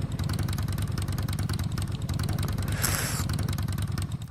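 A motorcycle engine idles steadily and close by, a continuous low rumble with a brief hiss partway through, and no talk over it.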